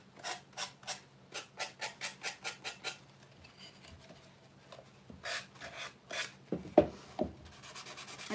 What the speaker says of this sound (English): I'm just gonna take my sanding block and sand down right there along the edge